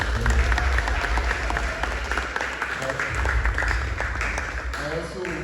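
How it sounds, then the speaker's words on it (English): An audience at a football-related ceremony breaks into sustained applause, a dense, steady clatter of many hands clapping close by that lasts throughout, with some voices mixed in. "So let's give him a round of applause."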